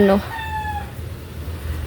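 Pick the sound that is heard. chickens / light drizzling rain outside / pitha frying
chickens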